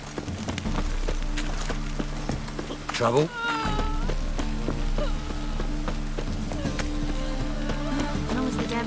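Steady rain patters on surfaces in The Witcher 3, a continuous soft hiss under game music and sound effects, with a brief spoken line over it.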